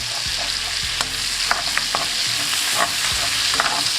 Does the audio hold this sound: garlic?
yes